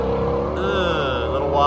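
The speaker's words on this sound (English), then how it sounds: "The only thing going down the track is a GT350." A Ford GT350 drives past on the Sebring race track, its engine note rising and shifting in pitch as it goes by, loud and continuous.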